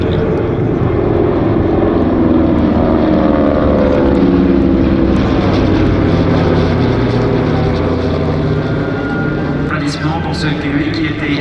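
A Douglas DC-3 and two Beechcraft 18 piston-prop planes pass in classic formation at an air show, a loud continuous propeller engine drone that swells and shifts in pitch, with an announcer talking over it.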